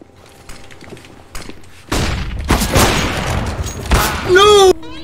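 Video game gunfire breaks out in loud, dense bursts of rapid shots after a quieter start, with voices shouting over the shooting.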